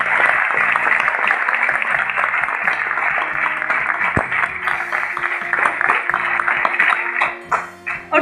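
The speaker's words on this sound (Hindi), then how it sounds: "मैं एक बारी मिस्टर राकेश अरोड़ा जी के लिए जोरदार तालियां चाहती हूँ" Applause for Mr. Rakesh Arora at a storytelling event, a sustained round of clapping from the crowd with music playing underneath, steady and moderately loud before tapering off at the end.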